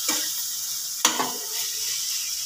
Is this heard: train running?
no